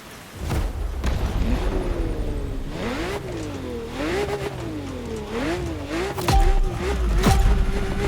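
A Lamborghini Murcielago drifting through city streets in The Crew Motorfest, its engine loud and close, revving and bogging in repeated swells with short tire squeals, continuous for the whole stretch.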